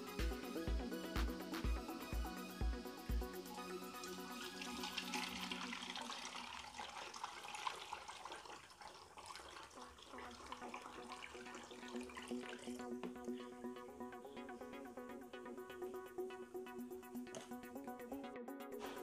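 Liquid extract poured steadily from one vessel into a container, a continuous watery trickle and splash lasting most of the clip, close by and mixed with background music.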